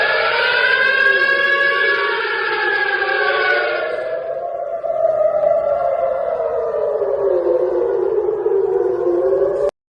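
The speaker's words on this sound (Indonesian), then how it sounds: "IDF mengumumkan bahwa sirine peringatan segera berbunyi di sejumlah kota, termasuk Yerusalem setelah deteksi rudal tersebut." Air-raid warning sirens in Israel after a Houthi missile launch, with cities including Jerusalem under alert, wail loudly and continuously, their rising and falling tones overlapping from more than one source and carrying on with no voices.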